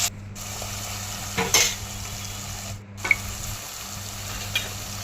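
A spoon stirs ginger garlic paste into homemade mutton curry in a pot, with a soft, low sizzle underneath and a few sharper scrapes and clinks against the pan, fairly quiet and close.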